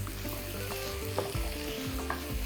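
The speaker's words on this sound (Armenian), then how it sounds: "տապակում ենք," Chicken thighs sizzle and fry steadily in a pan for an eastern-style sauce dish, with a continuous close crackle and occasional stirring scrapes, no voices.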